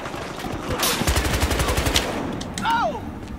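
Loud rapid bursts of gunfire from the video game Battlefield Hardline, shots rattling close together over a short span with a brief faint voice near the end.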